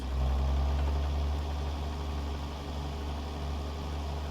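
A Caterpillar C15 diesel truck engine idling nearby, a steady low rumble with a throbbing mechanical hum and no voices.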